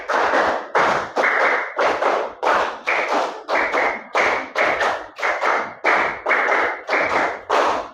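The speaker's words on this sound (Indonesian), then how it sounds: "Konsentrasi. 5 kali tepuk 5." A classroom of children claps the 'tepuk 5' pattern five times: repeated groups of quick, sharp, close claps in a steady rhythm, each group ending with a brief pause, with no talking.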